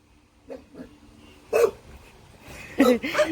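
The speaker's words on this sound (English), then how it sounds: "Hey puppies!" Puppies give a few short, high barks and yips, scattered and fairly close, with some quiet rustling in between.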